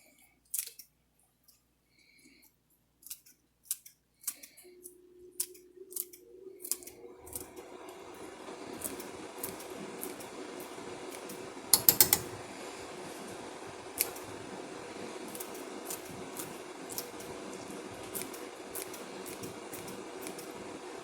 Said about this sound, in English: I just like to chop the stuff with scissors